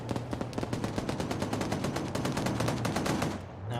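Gunfire in the military video game Arma: dense, continuous bursts of rapid automatic shots with overlapping reports, fairly loud and unbroken for several seconds before tapering off at the end.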